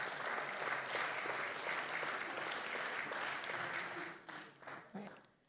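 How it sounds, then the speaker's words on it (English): An audience at a diplomatic talk event applauds steadily for around four seconds, then the clapping thins out and fades, with a voice briefly audible as it dies down. "A round of applause, everybody."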